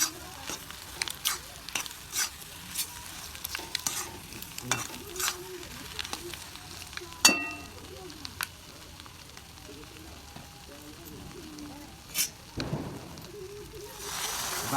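Egg curry masala sizzles in a pan as a spoon stirs it, with repeated sharp scrapes and taps against the metal over a continuous frying crackle, some strokes louder than others.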